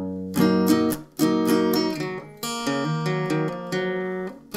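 Electric guitar plays the closing line of a riff, close and loud, with a few sharp strummed chord hits followed by ringing held chords, heard alone.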